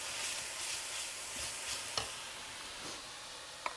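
Onions sizzle steadily in a pot of lentil mango soup, a soft continuous frying hiss with a few light clicks and stirring taps, close and moderately quiet, no voices.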